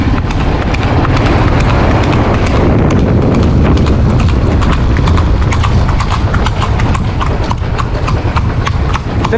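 A horse gallops along a tarred road with a bend, its hooves pounding in a fast, loud and continuous rhythm close by that fills the whole stretch.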